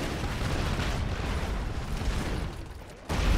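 Gunfire and explosions from the side-scrolling action game Broforce: a dense, continuous burst of loud shooting and blasts that dips briefly near the end before surging back.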